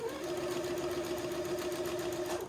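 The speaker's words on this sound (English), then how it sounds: "sewing right over the gathers" Sewing machine stitching over the gathered fabric of a gown, a steady continuous hum with a fast regular stitch buzz throughout, close and alone with no talk.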